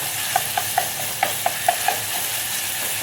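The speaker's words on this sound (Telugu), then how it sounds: "ఇలా ఫ్రై చేసేసుకున్నాము" Fresh-pounded ginger-garlic paste stirred in a pan for tomato pickle, with a steady soft sizzle and about eight sharp scraping taps of a spoon in an even rhythm.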